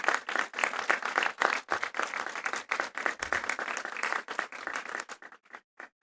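Graduates at a university graduation ceremony clap for their parents, a lively burst of many hands from a nearby crowd that gradually thins to a few scattered claps before stopping.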